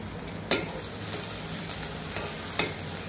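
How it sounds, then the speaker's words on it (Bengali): Onion and chili fry in hot oil with a continuous sizzle, broken by two sharp stirring scrapes, one early and one late. "তেলে পেঁয়াজ আর মরিচ একসাথে ভেজে নেব।"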